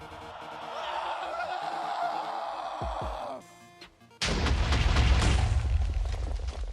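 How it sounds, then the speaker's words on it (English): A Minecraft boss in a nuclear wasteland gives a tonal cry, then after a brief lull a sudden loud, broadband explosion erupts and rumbles on with a sustained noisy roar to the end. "He let out a loud cry before he exploded."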